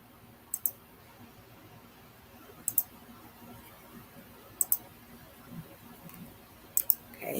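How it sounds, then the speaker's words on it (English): Computer mouse buttons clicked at a desk, heard as four sharp double-clicks spaced a couple of seconds apart over a quiet background hum, fairly close. "You can hear me clicking away at this mouse."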